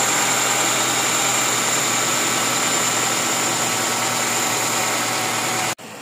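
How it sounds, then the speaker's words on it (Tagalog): A second-generation Honda CR-V's K20 engine idles steadily after a new radiator is fitted, a close, even mechanical hum with no talk until it cuts off abruptly near the end. "Ganyan po tunog ng makina niya."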